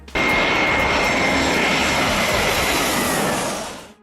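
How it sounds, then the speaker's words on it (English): A Ryanair Boeing 737 lands in gusty crosswinds at Dublin airport, its engines giving a loud, close, continuous roar that stays steady for several seconds, then fades sharply at the end. "Ryanair. 737 getting tossed around like a paper airplane in those crosswinds at Dublin"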